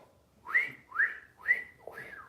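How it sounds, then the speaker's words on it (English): A person whistles a song melody in four rising, sliding phrases, each swelling and fading at an even pace, close up and alone with no talk. "there's a whistling part to it"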